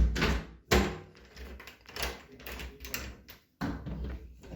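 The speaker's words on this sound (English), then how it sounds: "back to the locked door" A locked door at a South Wales holiday let in Burry Port being opened, giving a loud close thunk followed by handling knocks and a latch-like clack near the end, with no voices.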